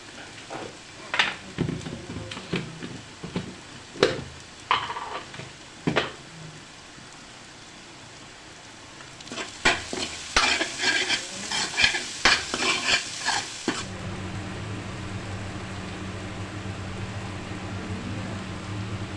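Cumin seeds sizzle in hot oil in a pan while being stirred for an aloo choliya (potato and green chickpea) curry, with scattered scraping clicks of the spoon, then a denser burst of stirring and a steady frying hiss at the end.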